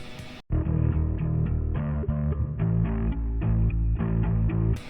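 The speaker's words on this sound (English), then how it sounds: "just chuck on loads of distortion and reverb" Heavily distorted bass guitar plays a steady riff with thick, saturated low notes and a washy reverb tail, loud and continuous after a brief opening gap.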